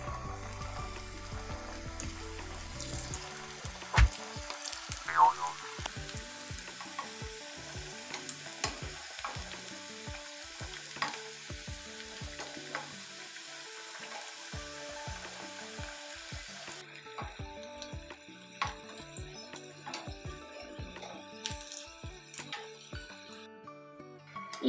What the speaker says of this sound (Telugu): నూనె ఈ విధంగా వేడెక్కిన తర్వాత మనం ముందుగా తయారు చేసి పెట్టుకున్న పాకెట్ సమోసాలను దీంట్లో వేసి వేయించుకోవాలి.